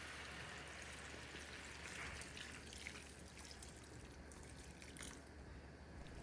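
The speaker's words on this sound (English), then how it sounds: "Add a little water to help it cook through evenly." Water is added to cabbage and ground beef in a pot, giving a faint, steady trickle and drip that is quiet and continuous throughout.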